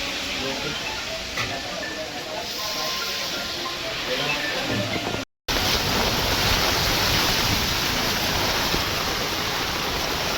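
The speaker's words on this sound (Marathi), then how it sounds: "परत पावसाला सुरुवात जोरात झालेली आहे" Heavy rain pours steadily in Virar in a dense, continuous hiss, broken by one brief silent gap midway.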